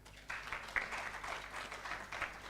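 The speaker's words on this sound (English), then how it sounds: "Please clap for them." An audience claps at a university student guild swearing-in ceremony, a brief uneven patter of hands that starts abruptly after a quiet moment and continues moderately loud.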